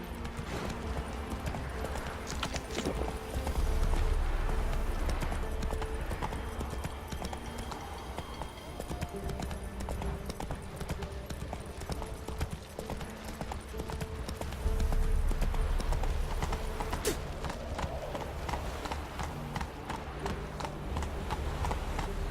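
Roach, the horse in The Witcher 3, gallops in a steady clip-clop of hooves that continues for the whole stretch, with brief surges of louder footfalls over a faint game ambience.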